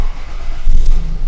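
A Lexus car engine idling smoothly under diagnostic checks, a steady low rumble close by with a brief swell midway, no talk over it.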